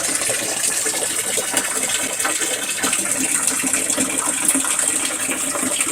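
Water runs from a hose into a shower, a steady, full splashing rush that continues evenly throughout at moderate loudness.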